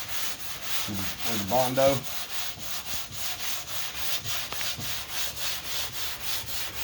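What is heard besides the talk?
sanding 2K primer on a car body line with a hard block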